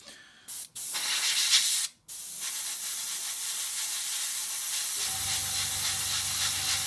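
An airbrush sprays Vallejo chipping medium onto a scale model, a close, steady hiss that cuts out briefly twice near the start and then runs on continuously.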